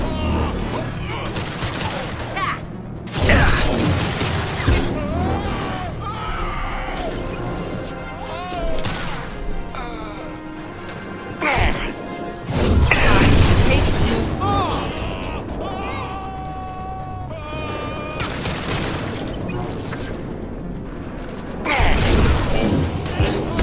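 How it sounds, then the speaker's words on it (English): Heavy weapon fire booms in Mass Effect 2 combat: loud, separated high-impact shots and explosive bursts over mechanical clatter, with characters shouting and talking between blasts. "Firing a high-impact shot!"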